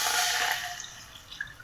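Water poured into a cooking pot on a stove for Kerala kozhi pidi, a brief close splash and trickle that fades out quickly, with no talking.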